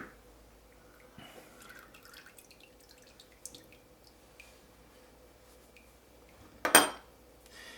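A spoon stirs beeswax into a herbal oil ointment, with soft intermittent scraping and clinks against the container, faint and close, ending in one sharper clatter near the end.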